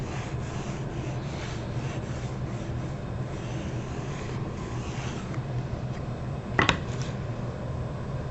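A pencil traces a curved convex profile onto a wooden slat with a continuous dry scratching rub, steady and close, with a short sharper scrape near the end.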